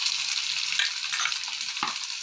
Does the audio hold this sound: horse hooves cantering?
no